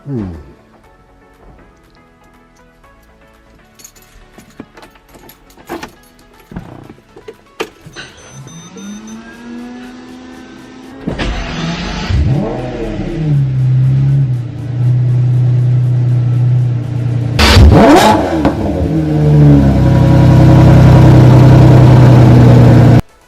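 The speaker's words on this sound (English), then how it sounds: "Let's do a little cold start on this Lamborghini, and I'll let you see how this exhaust sounds." After some quiet clicks and whirs, a Lamborghini engine cold-starts, cranking, catching and roaring into a loud rev, then settles into a deep, throaty idle through its exhaust.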